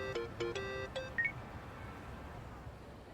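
A phone rings in the video game Yakuza Like A Dragon: a quick run of bright electronic beeping tones, followed by a fading tail and quiet background hum, with no talk.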